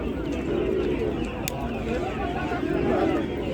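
Pigeons and doves coo in a busy Ganja bird market, a steady low murmur of calls under a constant crowd hubbub with people talking nearby.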